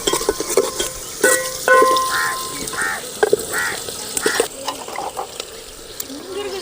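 Small onions frying in a pan for peanut rice, with close, loud, irregular scraping and stirring over a constant sizzle, and a few brief clanks from the spoon.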